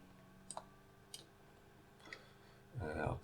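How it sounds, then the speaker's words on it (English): Mouse clicks on a computer while working in OpenStreetMap: a few sharp, quiet single clicks spaced about half a second apart, then a louder burst of rustling handling noise at the end. "I'll click on Monaghan Street here"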